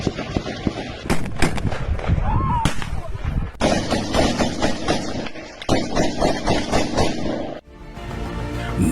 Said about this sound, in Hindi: पहाड़ों से जारी गोलीबारी